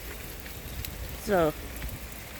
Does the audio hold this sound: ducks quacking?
no